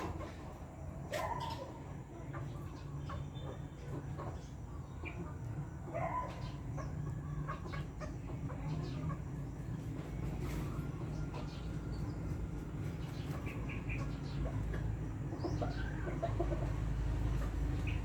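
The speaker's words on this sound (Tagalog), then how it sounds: "Mga manok." Chickens cluck in scattered, fairly faint calls over a continuous low rumble outdoors, with occasional brief sounds mixed in and no clear talking.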